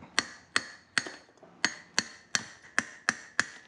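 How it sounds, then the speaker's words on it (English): A hammer strikes a chisel against coral rock in nine sharp, evenly spaced metallic taps, close and clear with no talking. "So I'm just gonna take a hammer and chisel."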